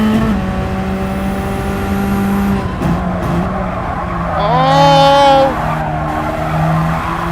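A Radical race car on a one-lap attack in Gran Turismo 7, its high engine note rising and falling through gears, with tires squealing loudly through a corner midway, close and continuous.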